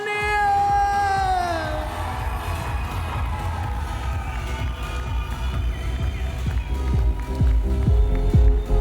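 Wedding guests in a ballroom cheer, whoop and scream as the newlyweds enter, a dense, loud crowd roar with high shrieks at the start and rising clapping toward the end.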